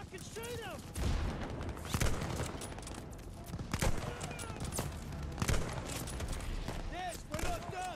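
Heavy gunfire in Call of Duty Vanguard during a tank assault: repeated loud shots and bursts throughout, with shouting voices and whistling effects mixed in.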